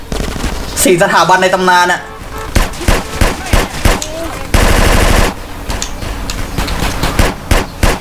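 Gunfire in GTA San Andreas, loud bursts of automatic shots including a dense sustained volley, mixed with game effects while someone speaks over it.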